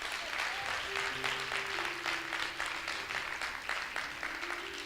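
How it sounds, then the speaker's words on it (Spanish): A church congregation claps for God in a sustained round of applause, with steady dense clapping throughout and soft held tones running underneath. "Un aplauso a Dios"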